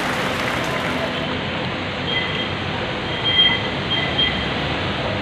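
Light rail (LRT) train at a station, a loud steady rumble and hiss with a brief high squeal, filling the whole stretch.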